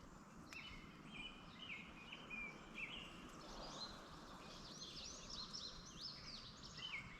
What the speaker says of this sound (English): That really high-pitched, I call it sickening sweet song, is an indigo bunting.